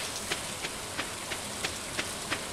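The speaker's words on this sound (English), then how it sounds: "It's already raining." Steady rain in the farming video game Stardew Valley, a dense, even patter with faint regular taps recurring about every third of a second, heard alone without voices.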